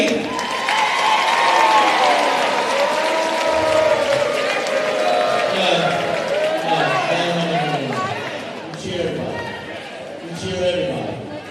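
Crowd applause and cheering for players at a 30th District boys and girls championship, loud and sustained throughout, with voices mixed in and a brief dip before a final swell.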